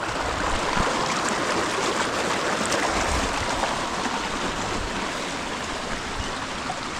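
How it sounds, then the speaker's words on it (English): River water flowing in Kenya, a continuous rushing, gurgling stream heard close by at a steady level throughout, with no voices. "We have natural rivers right like this. You can see this water flows like non-stop."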